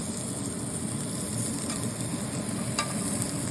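White onion and garlic sizzling steadily in a hot pan for a home-made guajillo pepper salsa, a continuous dense frying hiss with a brief scrape or two as the pieces are flipped and turned.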